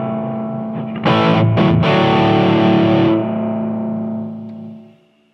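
A sustained electric guitar chord rings through a heavily saturated Harley Benton HB-20R amp, with its spring reverb maxed out, splashy and drenched, swelling and then trailing away into silence.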